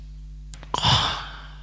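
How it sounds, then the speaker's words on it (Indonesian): One deep breath is drawn in and let out as a long, audible sigh, close to the microphone against a faint steady hum. "Udah gitu tarik nafas"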